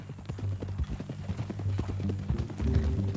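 Horse hooves clip-clopping on the ground in Red Dead Redemption 2, a steady close rhythm of hoofbeats with a faint voice in the background.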